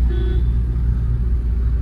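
A Tata Safari Storme engine drones low and steady while driving slowly through city streets, a smooth continuous rumble heard from inside the cabin with no talking.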